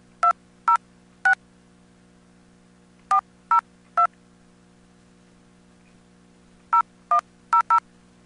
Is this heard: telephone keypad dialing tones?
yes